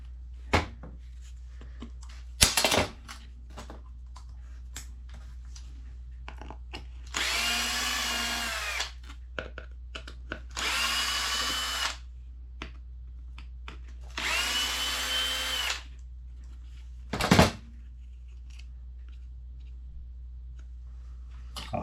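Power drill unscrewing parts on a Mugen RC buggy, three separate whirring bursts of a few seconds each, with clicks and knocks of handling in between over a low background hum.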